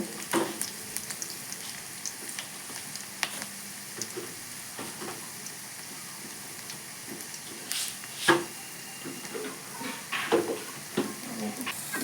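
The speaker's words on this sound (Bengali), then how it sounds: "পেঁয়াজটা আমি খুব বেশি ভাজবো না, একটু মিডিয়াম ভাজা হবে" Onions frying in a pan at medium heat for khichuri, a soft steady sizzle with occasional light stirring and scraping taps, fairly quiet and close.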